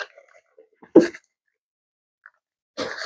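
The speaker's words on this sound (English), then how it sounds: "I had to sneeze" A single sharp sneeze from a woman at home, loud and close, with soft breaths and small mouth sounds around it.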